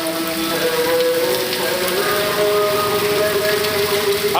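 Steady rain falls outdoors, a dense even hiss of drops on surfaces filling the whole stretch, with a faint tonal hum running underneath and no one talking.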